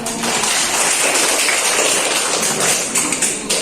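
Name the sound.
audience clapping hands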